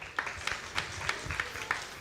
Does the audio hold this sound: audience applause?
yes